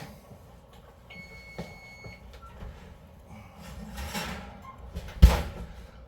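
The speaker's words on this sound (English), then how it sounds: "you can hear that beeping in the background." An oven timer gives a short electronic beep, fairly faint and in the background, alongside kitchen clatter and a sharp knock of a pan being handled.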